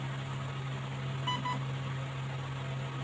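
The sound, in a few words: airsoft gun motor click and beeps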